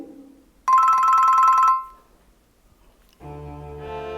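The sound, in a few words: telephone ringing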